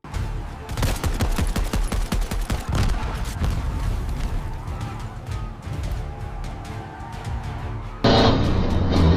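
Gunshots ring out on a road in Nong Ki, Buriram, during a road-rage chase: a dense, loud burst of rapid cracks in the first few seconds, with sparser shots and a steady roar underneath.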